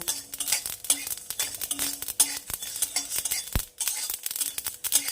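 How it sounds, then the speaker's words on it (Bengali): A spoon scrapes and clinks steadily against a pan of Bengali fish curry with the gas turned off, the food still faintly sizzling in the hot pan, close and busy with no voices. "আর এভাবে ক্রমাগত আমি এটাকে নাড়িয়ে যাব"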